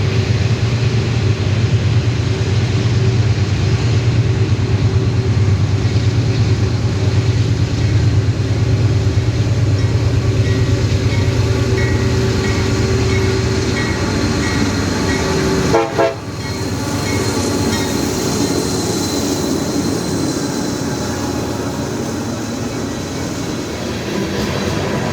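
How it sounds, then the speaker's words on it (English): A westbound freight train led by two rebuilt CM44 AC locomotives rumbles steadily in the distance, a sustained loud roar with a brief dip midway, and no talking. "A westbound manifest led by two rebuilt CM44 ACs was in the distance."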